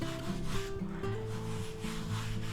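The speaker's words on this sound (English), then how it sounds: "we'll go ahead and wipe our cutting board down with a little bit of bleach" A cutting board being wiped down with a cloth and a little bleach in a home kitchen, giving a steady rubbing and scrubbing sound that runs throughout at moderate loudness with no talking.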